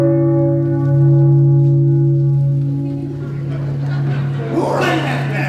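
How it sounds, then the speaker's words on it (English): A single bell rung onstage during a high school stage production of The Wizard of Oz, a sustained tone with long ringing overtones that slowly fades while a voice speaks over the end. "Who rang that bell?"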